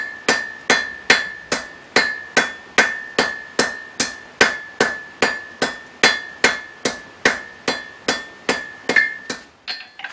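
A hammer rings steadily on metal at the edge of an anvil while forging a leaf hook, about twenty sharp, evenly spaced strikes with bright ringing decay, loud and close, no talk.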